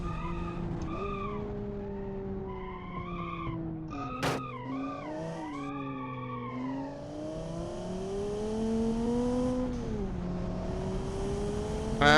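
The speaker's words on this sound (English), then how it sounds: "Listen to those turbo noises." A turbocharged car engine at full throttle, its loud, continuous tonal whine sweeping up and down in pitch and climbing steadily over about twelve seconds, with no talking.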